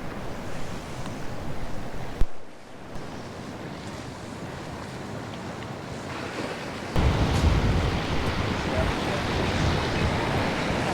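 Sea waves washing onto the beach below the Tulum ruins in Mexico, a broad continuous roar with wind buffeting the microphone, a brief dip, then a louder surge of surf.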